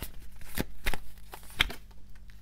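Tarot cards being shuffled and drawn, heard as several crisp papery slaps and riffles spaced irregularly over a steady low hum, close and moderately loud.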